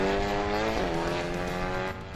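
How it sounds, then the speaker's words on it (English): A Honda TCR race car accelerates on track, its engine note climbing steadily through a strong harmonic whine, heard clearly and fairly close before dropping slightly at the end. "just listen to that car accelerate round towards Clark's"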